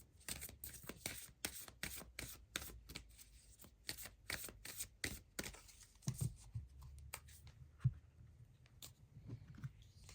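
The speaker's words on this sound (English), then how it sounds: "Let's get you a couple cards from the Moonology Manifestation Oracle." A deck of Moonology Manifestation oracle cards is shuffled, giving a quick series of soft, close papery riffles and slaps that thin into scattered taps as cards are drawn, quiet and without talking.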